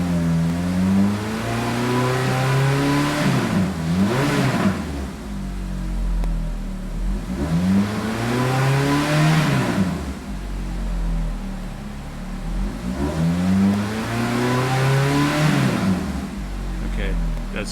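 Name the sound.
Ferrari 430 engine revving to about 4,500 rpm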